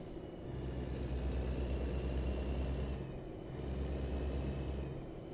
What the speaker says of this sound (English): Jake brake is using a higher RPM to slow your truck down without using the brakes.